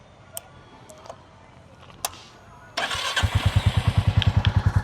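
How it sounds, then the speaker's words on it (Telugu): A 2025 Royal Enfield Classic 350 motorcycle fires up after a few faint ticks, then settles into a loud, close, steady single-cylinder thump with an even rapid rhythm, alone without talk. "ఒక్కసారి ఈ ఇంజన్ ఆన్ చేసి చూద్దాం"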